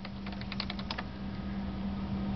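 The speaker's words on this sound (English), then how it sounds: "type in your username" Quick keystrokes tap on a computer keyboard in a school computer lab as a username and password are entered, a short burst of close clicks over a low steady hum, then only the hum.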